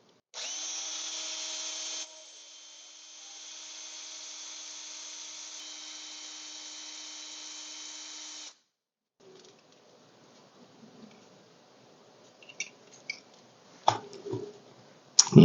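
A small drill bores into the rivet head on a diecast model car's chassis, giving a steady high whine for several seconds, then stopping; afterwards faint clicks and light handling knocks follow.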